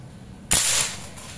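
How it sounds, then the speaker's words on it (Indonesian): A single sharp PCP air rifle shot cracks out, quick and crisp with a brief hiss trailing off, against a quiet background. "Oke, tembakan pertama."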